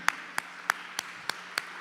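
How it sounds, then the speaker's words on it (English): Detroit students clapping for themselves, a handful of sharp separate claps at an even, slow rhythm against a quiet background. "clap it up for yourselves"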